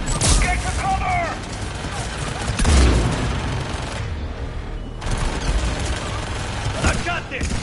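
Dense automatic gunfire and bursts from a firefight in the Mass Effect video game, loud and continuous with sharp blasts, under a character's shouted voices.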